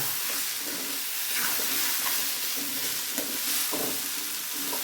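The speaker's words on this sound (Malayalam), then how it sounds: "നമുക്ക് ഒന്നുകൂടെ തുറന്ന് നോക്കാം ഒന്ന് ഇളക്കി കൊടുക്കാം" Brinjal (eggplant) thoran sizzles steadily in an uncovered pan while a spoon stirs it, with soft scraping strokes recurring over a constant frying hiss; no voices.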